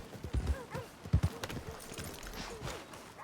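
Horse hooves clip-clop at an easy walk in Red Dead Redemption 2, a quiet, uneven patter of steps with a brief whinny-like sound mixed in, heard without speech over a faint ambient background.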